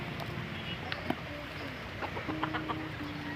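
Pet organic chickens clucking at feeding time near their coop, short scattered clucks and calls overlapping at close range over a low background rumble.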